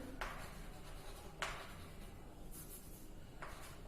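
Pen or pencil strokes as numbers are handwritten on paper during a class 3 maths lesson, a few soft scratchy bursts separated by pauses over a low, quiet background.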